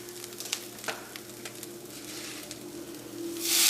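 Curry leaves sizzle with grated coconut in a pan while making curry leaf chutney. The frying is a steady, close crackle and hiss with occasional pops, and it swells louder near the end.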